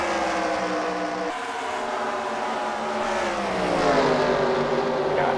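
Race cars lap a track in a CWRL racing event, their engines droning steadily and loudly as they pass, pitch rising and falling.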